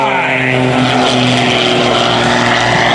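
Aerobatic propeller airplane (Mike Wiskus) performing at the 2021 New York International Air Show, its engine roaring loud and steady with a droning harmonic whine that shifts slightly in pitch as it passes close overhead.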